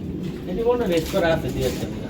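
Racing pigeons cooing nearby, soft low repeated coos under a voice talking.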